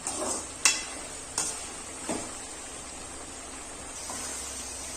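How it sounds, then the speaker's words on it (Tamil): Gooseberry pickle cooks in oil in a pan under a steady hiss, with a few distinct stirring scrapes spaced a second or so apart. "அடிக்கடி இப்படி கிண்டிக்கிட்டே இருக்கலாம்."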